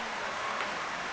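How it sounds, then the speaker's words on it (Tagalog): Heavy rain falls in a steady, dense hiss, an even broadband wash with no pauses over a brief moment. "lumakas na yung ulan"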